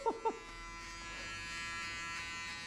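Electric hair clippers drone steadily and close while giving a buzzcut, a continuous harmonic buzz after two brief tonal blips at the start, holding an even level throughout.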